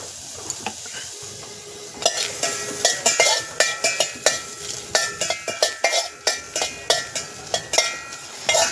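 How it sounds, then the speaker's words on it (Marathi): Onion dry-roasting in a pan without oil while being stirred, with a faint sizzle under a quickening series of sharp scraping clinks from a utensil against the pan, close and fairly loud. "कांदा आहे ना बिना तेल टाकून बाजायचा जेणेकरून टेस्ट चांगली होते ना"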